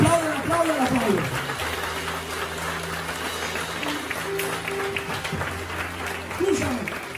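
Church congregation applauding during a Spanish-language sermon: moderate, steady clapping carries through the room under a loud, echoing preacher's voice.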